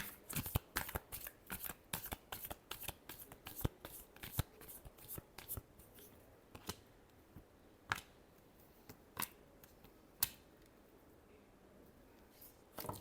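Tarot cards riffled and shuffled by hand in a quiet room, a dense run of crisp flicking snaps that thins out into a few isolated card taps and slides, close and clear with no talk.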